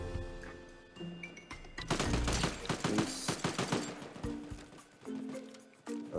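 Rapid, loud gunfire from a video game gun rattles in dense bursts from about two seconds in, near and forceful, with short pauses between volleys.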